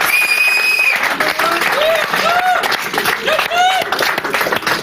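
An audience in a French poker broadcast studio breaks into loud, continuous applause, with cheering voices and whoops rising over the clapping throughout.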